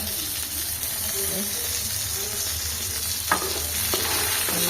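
Eggplant pieces frying in oil in a pan, a steady sizzle with a few clinks of a utensil stirring, close and moderately loud, with faint voice in the background.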